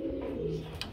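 Pigeons for sale at a pigeon farm giving a short, low, throaty coo up close, a single brief call with no talk.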